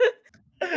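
A short, throaty burp erupts at once, fades into near silence, then a second rough voiced burst follows, close and fairly loud, with no talk over it.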